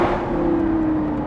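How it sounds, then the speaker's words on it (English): Close, loud, steady engine roar from a Lamborghini Gallardo Performante as it accelerates linearly, heard from inside the car with a sustained tone that drifts slightly and no talking. "Throttle response is immediate. A very linear acceleration."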